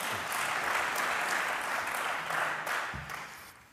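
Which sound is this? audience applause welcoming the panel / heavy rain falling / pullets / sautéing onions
audience applause welcoming the panel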